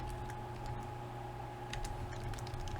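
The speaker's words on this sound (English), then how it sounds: "If I could type." Computer keyboard keys tapped in short, quick bursts under a steady electrical hum, faint and close, with no voices.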